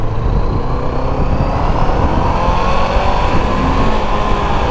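A Fekon Glider 500s cruiser motorcycle engine runs loud and close, holding a dense, steady roaring drone with no voices over it.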